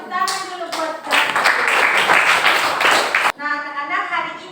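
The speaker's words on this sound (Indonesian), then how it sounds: "Tepuk tangan dulu buat kita." Children clapping together in a classroom, a dense burst of hand claps lasting a couple of seconds that stops abruptly, with a teacher's voice talking before and after.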